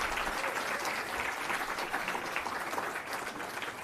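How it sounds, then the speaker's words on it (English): Audience applause at an Illinois Democratic Party breakfast, a steady wash of many hands clapping throughout, moderately loud and filling the room without talk. "I want to give a little round of applause here to Ed Smith"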